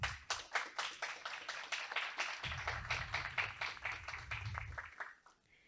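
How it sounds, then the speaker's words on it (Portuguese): Applause at a university inaugural lecture in the Amazon region: a small audience claps in dense, distinct hand strikes for about five seconds, with a low hum underneath, then the clapping stops. "Uma salva de palmas"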